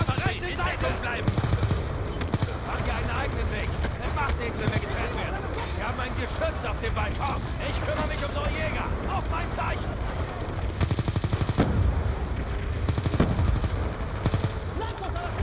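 Sustained machine-gun fire from a gun emplacement on a balcony rattles in rapid bursts through a Call of Duty: Black Ops 2 firefight, with louder volleys near the start and end and soldiers shouting over it.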